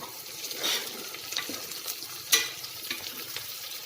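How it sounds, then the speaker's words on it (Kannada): Sliced onions fry quietly in a pan toward light golden brown, a soft continuous sizzle broken by occasional stirring scrapes and clicks. "ಈ ಈರುಳ್ಳಿನ ಒಂದು 5 ನಿಮಿಷ ಸ್ವಲ್ಪ ಕೆಂಪಾಗಬೇಕು, ಆ ಥರ ಹುರ್ಕೊತೀನಿ."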